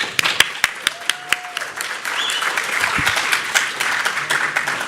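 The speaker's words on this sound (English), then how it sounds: "Give him applause." An audience applauds for speaker Zoz at the BalCCon 2017 hacker conference, a few sharp single claps first, then a steady wash of clapping from the crowd building through the second half.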